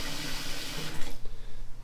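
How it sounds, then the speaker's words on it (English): Hot water runs steadily from a tap into a sink, a broad hiss that fades and drops off partway through, done while fixing sticky buttons on a Ferrari 458 Italia. "All right, I put some in there, just running some hot water."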